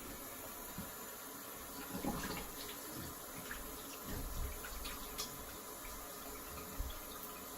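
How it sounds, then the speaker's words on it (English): A bathroom tap runs quietly as water rinses a razor during shaving, a soft, steady hiss of flowing water broken by faint splashes and clinks, with no talking. "I'm just gonna rinse."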